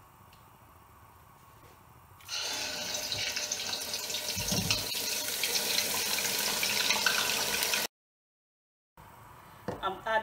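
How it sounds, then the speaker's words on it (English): Blended vegetables sizzling in hot sunflower oil for Ghanaian shito: after a quiet start, a loud, dense, steady hiss of frying fills the pan, cuts to silence, then faintly returns. "I'm just going to add my blended vegetables to it and allow it for about 25"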